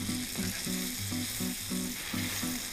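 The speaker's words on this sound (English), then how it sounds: "you're going to let this creme fraiche melt down and cook nicely" Vegetables in melting creme fraiche cook gently in a pan, a soft even sizzle running throughout with a faint low bubbling pulse. No voices are heard.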